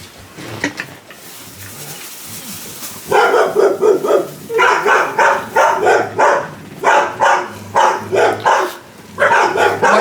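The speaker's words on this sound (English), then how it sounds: "We're gonna wait until the Barky McBarkingtons are done barking at nothing, probably" Several dogs bark loudly and close by in a rapid, steady series of yaps, nearly without pause after a quieter opening.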